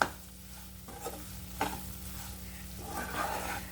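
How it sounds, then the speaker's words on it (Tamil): Semolina roasting in a pan for kesari being stirred, a quiet dry scraping and faint sizzle with a few soft spoon strokes, close and low in level. "கைவிடாமல் நல்லா அப்படியே கிளறிக்கோங்க நல்லா அப்படியே வந்து வறுபடணும்"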